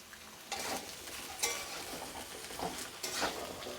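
Ridge gourd and potato pieces frying together in a pan, a faint background sizzle with several brief bursts of scraping as a spatula stirs, close but quiet and free of talk.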